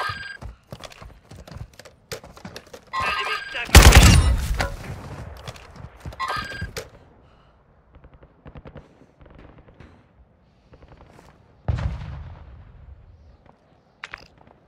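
Call of Duty gunfire rattles in bursts, with one loud close volley of shots and scattered quieter cracks and impacts around it, among other game sounds.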